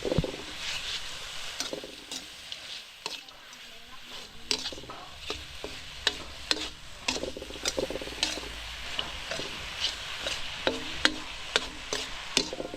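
Food crackles and sizzles in a pan, with a steady hiss broken by frequent sharp pops and occasional stirring scrapes, no talking.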